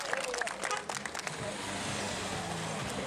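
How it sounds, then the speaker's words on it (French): Roadside spectators clap and cheer for a cyclist starting a time trial, a steady wash of crowd applause with scattered louder claps early on, while a commentator talks over it. "on va l'applaudir pour l'homme d'Orbea, Romain Sigard."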